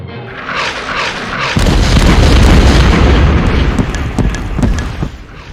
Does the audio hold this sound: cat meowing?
no